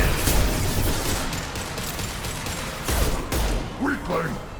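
Pistol gunfire in the video game Mass Effect 2, with repeated sharp shots and thuds over dense combat noise. A voice is heard briefly near the end.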